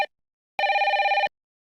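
A telephone bell rings in a single short electronic trill, clear and close, after a brief clipped tail of an earlier ring, then silence.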